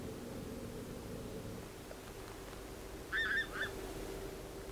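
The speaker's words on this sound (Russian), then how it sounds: "Обалдеть. Гуси летают." A few geese honk in flight over water during a late-September 2020 duck hunt, giving a brief cluster of two or three distant calls over a quiet, steady background hiss.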